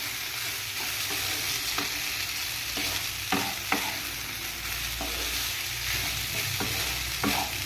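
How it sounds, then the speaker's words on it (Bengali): Soaked rice for basanti pulao is stirred around a hot pan, with a steady broad sizzle and repeated scraping strokes of the spoon at irregular intervals, close and fairly loud, with no voices. "এবার আমি এখানে দিয়ে দিচ্ছি তোমার মেখে রাখা চালটা। এটাকে আমি একটু নেড়ে চেড়ে নেব।"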